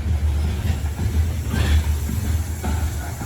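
Long coal freight train with hopper cars rolling past, a steady low rumble with clattering wheel noise and a faint hiss, loud and continuous throughout.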